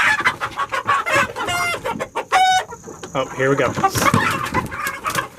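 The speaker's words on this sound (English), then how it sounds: "Now this one is actually a Rhode Island Red rooster" A Rhode Island Red rooster clucks and squawks loudly in short bursts close by, with a person speaking briefly amid the bird noises.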